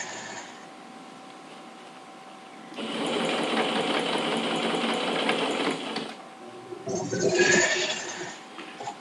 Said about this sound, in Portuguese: Pra ter certeza que vai costurar todo mundo aqui,